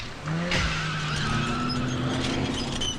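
A van screeches off with its tires skidding loudly, a sustained squeal riding over the revving engine as it pulls away close by.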